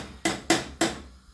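Three quick metallic clanks of a lid settling onto a cooking pot, evenly spaced and close, with a brief ring after each.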